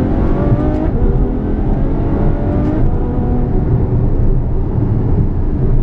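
A 2014 Ferrari F12 Berlinetta V12 engine roars steadily close by, its exhaust note rising and falling as it shifts down through the gears.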